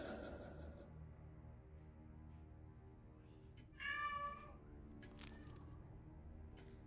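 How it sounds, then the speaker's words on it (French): Cat meowing in the fantasy role-playing game Fable III, one short, loud meow standing out over steady game music and ambience. "J'ai un chat d'une discrétion sans nom."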